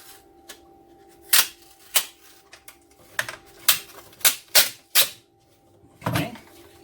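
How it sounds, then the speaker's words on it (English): A sticker is peeled off a 105Ah lithium house battery with a finger, producing a series of short, sharp crackling rips spaced irregularly over a quiet background hum. "if you take your finger, you can normally peel this sticker right off"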